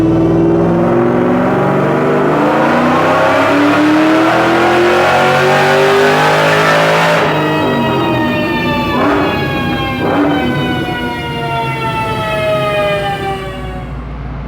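A supercharged Ford Cobra on a chassis dyno roars through a long 4th gear pull, the engine and supercharger whine rising steadily in pitch and loud throughout, then easing off near the end.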